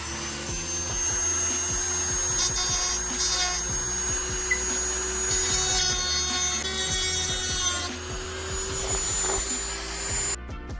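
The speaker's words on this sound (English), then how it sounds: "we got a Dremel ready, and this is the bit I'm going to be using" Dremel rotary tool grinding metal on a Gila piston: a continuous high-pitched whine with rasping, scraping texture that holds steady for about ten seconds before stopping abruptly at the end.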